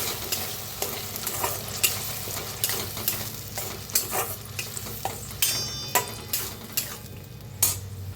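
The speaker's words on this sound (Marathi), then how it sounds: "त्याच्यातच टाकायचं टमाट्याची पेस्ट, म्हणजे मिक्सरला 2 टमाटे बारीक करून घेतले होते, त्याला भी भाजून घेऊया" Chopped onion frying with tomato paste in a pan, a steady close sizzle broken by repeated scrapes and clinks of a spoon stirring against the metal.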